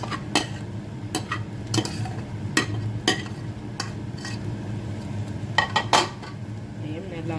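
Cooked rice being stirred into an egg and tomato mixture in a pan, Jaffna style, with repeated scraping clinks of a spoon against metal over a low sizzle, close by and without talk.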